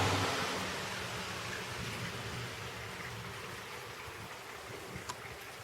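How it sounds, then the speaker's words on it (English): Steady humid-day rain falling outdoors, a soft, even hiss of drops heard close to the microphone with a few louder patters near the end. "I love the sound of rain."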